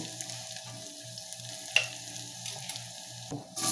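Garlic frying in a pan for a sardine noodle dish, a steady close sizzle with soft stirring scrapes and a few clinks of utensil on pan.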